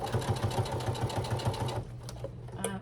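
A sewing machine backstitches and then stitches a fabric tote bag, a rapid, even, close mechanical chatter for nearly two seconds before it stops and the fabric is handled quietly.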